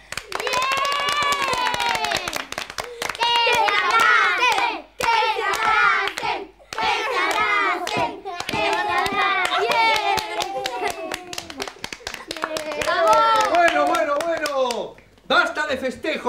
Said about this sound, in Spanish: y ahora un aplauso para las reconciliadas